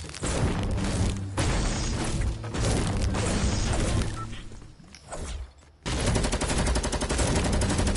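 Rapid SMG fire in Fortnite, with dense bursts of shots running nearly the whole time. There is a brief dip before the shooting resumes loud and steady.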